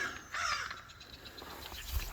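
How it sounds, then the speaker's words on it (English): A crow caws in the woods along the Ozark Highlands Trail, one harsh, fairly close call early on followed by fainter distant caws over a quiet outdoor background; no one speaks. "Crow calling."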